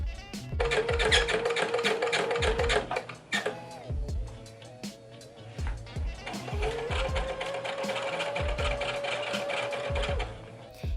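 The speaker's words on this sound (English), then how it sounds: "Instead of ending the row every time and wasting thread, I just lift up the foot and sew down a couple stitches" A sewing machine stitches fabric in two sustained runs of rapid, even needle clatter, broken by a brief pause as the presser foot is lifted and the work shifted, close and loud.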